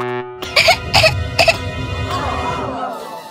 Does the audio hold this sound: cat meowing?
no